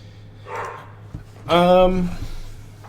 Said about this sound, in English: Sorry for Lucy barking